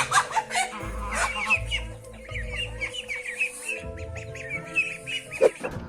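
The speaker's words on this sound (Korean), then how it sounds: "이 수탉은 이곳의 왕이었죠." A rooster clucks and squawks in a short run of calls close by, with low rumbling background noise in a farmyard setting where a goose is also kept.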